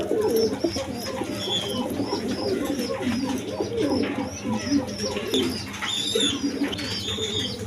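Pigeons with their chicks at feeding time make soft overlapping coos and murmurs alongside high thin squeaks and chirps, steady and close throughout.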